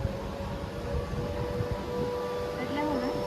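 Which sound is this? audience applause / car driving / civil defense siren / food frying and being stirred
civil defense siren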